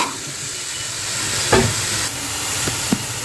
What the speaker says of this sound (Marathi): टोमॅटो घातलेला आहे छान असं त्यालाही आपण मस्त फ्राय करून घेऊया